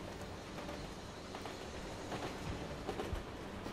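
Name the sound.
train moving in video game Assassin's Creed Chronicles Russia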